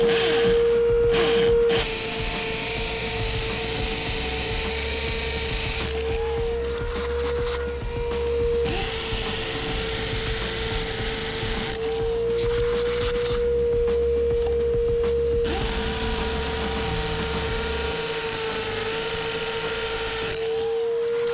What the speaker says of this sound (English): We're ready to drill. We got the hammer drill with the right fit